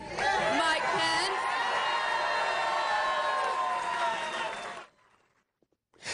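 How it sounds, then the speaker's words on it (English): A crowd cheering and whooping for Vice President Mike Pence, a sustained roar of voices that swells, holds for several seconds, then cuts off into near silence. "listen to how the crowd reacted"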